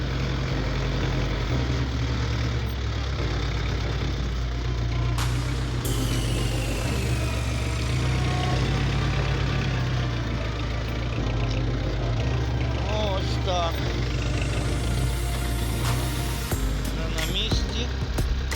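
A Lovol 354 tractor's engine runs steadily throughout, a loud, constant low diesel drone with a few brief rattles and clanks over it, and no speech.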